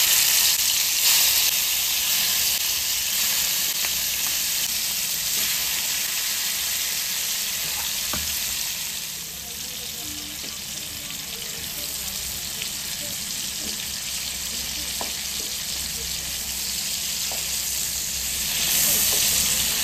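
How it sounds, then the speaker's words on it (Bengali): Prawns and fish sizzle steadily in hot oil in a home kitchen, a continuous loud hiss with occasional pops and crackles, no talking over it. "এবার আমি মাছগুলোকে ভেজে নেব।"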